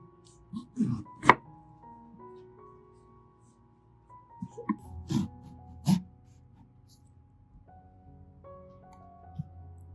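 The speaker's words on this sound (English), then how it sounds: "use a knife to make an X-shaped cut on the top of the lemon" A knife cuts X-shaped slits into the tops of lemons on a board, heard as a few sparse, quiet thunks and chops spaced out over several seconds, with long quiet gaps between.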